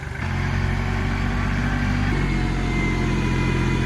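Farm tractor engine idling nearby on a homestead with pallet forks attached, a loud steady low rumble with a slight pitch shift midway.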